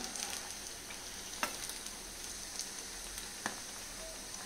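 Masala fries in oil for a veg fish curry, giving a soft continuous sizzle and crackle, fairly quiet, with a few sharp clicks of a utensil now and then and nobody speaking.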